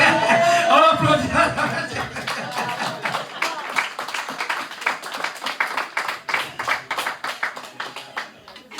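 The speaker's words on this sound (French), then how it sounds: "On applaudit." A church congregation breaks into applause during a sermon. Loud mixed voices and laughter come first, then settle into rhythmic group clapping that fades gradually toward the end.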